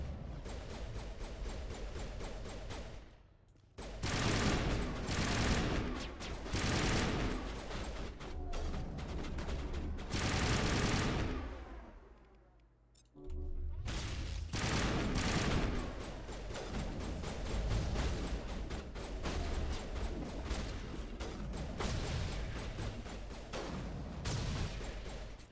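Gunfire in Mass Effect: dense, loud bursts of weapon fire and impacts roll on almost continuously, with two short pauses in the barrage.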